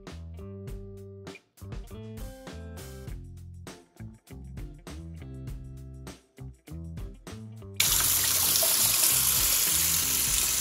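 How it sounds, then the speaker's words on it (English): Tap water pours steadily into a sink as apples are rinsed, a loud continuous rushing that starts abruptly near the end after a stretch of music. "So let's wash them off now."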